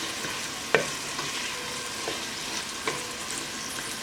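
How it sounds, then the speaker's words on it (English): Ginger garlic paste frying with onions in a pan, a steady close sizzle with a few sharp clicks from stirring. "I will be adding my ginger and garlic paste. Give it a quick stir."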